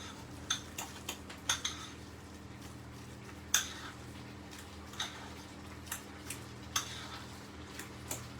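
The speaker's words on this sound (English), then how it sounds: "So I'm just using a fork for this, trying to give it a mash and a mix." A fork mashes cooked sweet potato in a dish, giving sparse, irregular metallic clinks and taps against the bowl over a faint steady background hum.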